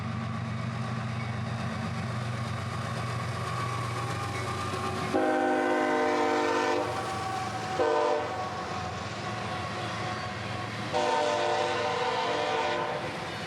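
Freight train M604, led by two GE wide-cab locomotives, approaches with a steady loud engine rumble and blasts its horn in several long sounding notes, the roar building as it nears.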